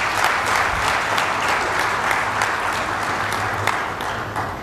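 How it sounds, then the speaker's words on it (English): An audience at a conference on artificial intelligence and society at Victoria Falls gives a round of applause, a steady, dense wash of clapping from a large room that lasts throughout and fades slightly at the end. "can we give James another round of applause"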